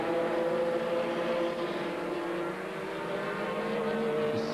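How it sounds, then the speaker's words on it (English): GT race cars battling for position on a circuit, a dense continuous engine roar from a pack of cars, fairly loud and steady throughout with no voices. "And then a whole gaggle of cars fighting for position."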